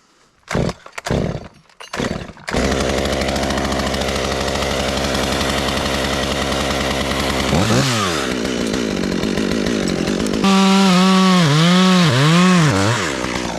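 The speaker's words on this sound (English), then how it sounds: "we'll bore it just to see what kind of dust comes out of it" After a few short bursts, a chainsaw roars continuously at full throttle while boring into a dead tree, its pitch dipping as it bogs under load, then surging again near the end.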